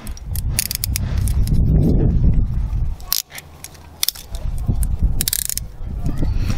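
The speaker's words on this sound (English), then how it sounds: "So we're going to apply our next set of cuffs keyholes up." Metal handcuffs are applied to wrists, with quick ratcheting clicks and clinking of chain and cuffs up close, scattered through rustling and handling noise.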